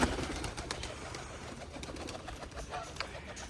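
Pigeons cooing softly amid light flapping and scattered clicks, a busy flock nearby with no talking.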